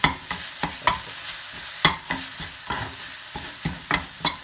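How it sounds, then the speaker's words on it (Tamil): Murukkamillai being stirred in a pot as it steams, a spoon scraping and knocking in an irregular rhythm of sharp clacks over a steady hiss, close and fairly loud, with no talking. "கிண்டி பார்ப்போம்."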